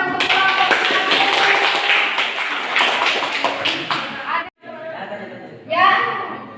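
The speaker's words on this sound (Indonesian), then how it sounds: "tepuk tangan untuk kelompok" A classroom group gives applause for another group that presented a homemade fermenter, a dense, loud patter of many hands at close range with voices mixed in, breaking off briefly and then picking up again.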